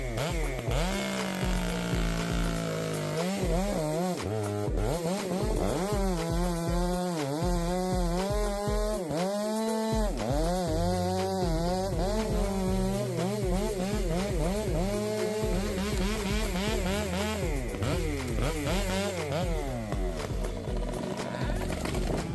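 Stihl 462 chainsaw with a 20-inch bar cutting through fir tree trunks, its engine screaming loud and continuous with pitch bending up and down under load, close by.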